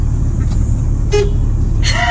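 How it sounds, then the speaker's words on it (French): A car horn gives two short toots roughly a second apart, heard from inside a car over the steady rumble of the engine and road. "Tu fais pas un petit coup de klaxon pour dire reviens que tu es là?"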